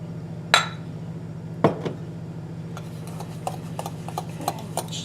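Breadcrumbs and butter are mixed in a bowl for a baked mac and cheese topping, with a couple of sharp clinks of utensil on bowl followed by a run of lighter, irregular scraping taps over a low steady hum.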